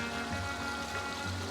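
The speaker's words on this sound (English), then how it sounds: "every waterfall is flowing the way that we had wanted it to flow." Waterfalls flowing in a backyard tropical oasis give a steady, even wash of falling water with no pauses, heard close and alone.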